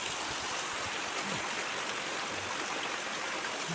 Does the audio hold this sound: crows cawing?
no